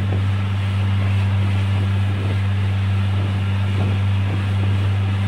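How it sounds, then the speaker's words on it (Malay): A jet ski engine drones steadily off Batu Ferringhi beach in Penang, a loud continuous low hum with no breaks, mixed with faint rushing water. "Tu tengok ada orang main jet ski tu"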